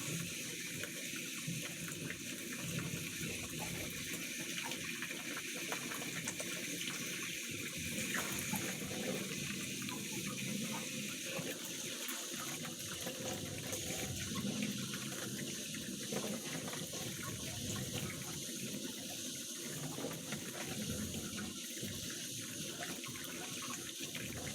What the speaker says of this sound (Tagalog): gasan na natin maigi para matanggal yung mga dugo